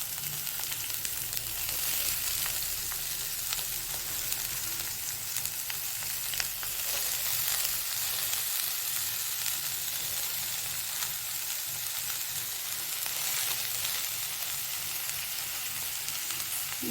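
Amaranth leaves sizzle and crackle continuously in a hot pan as they are stirred while frying, giving a steady, fairly faint hiss with no talk.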